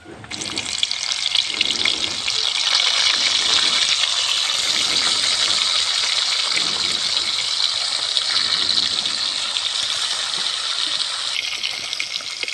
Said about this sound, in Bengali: কড়াতে তেল দিয়ে দিচ্ছি মাছ ভাজার জন্য তেলটা গরম হয়ে গেছে আমি মাছগুলো হালকা করে ভাজবো